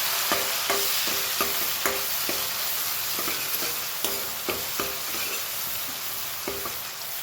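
Chopped onions, green chilli and garlic sauté in a hot pan, a steady soft sizzle broken by regular clinks and scrapes of a spoon stirring, close and moderately loud with no talking.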